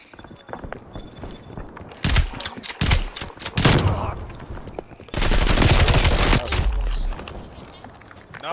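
Gunfire in the video game Call of Duty: Black Ops Cold War, loud rapid bursts and sustained automatic volleys with short gaps and faint background noise.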